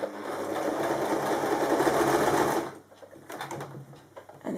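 A sewing machine back-tacks fabric at stitch length 1.5, running in a steady, fast mechanical whir for over two seconds before stopping, with softer handling noises afterward.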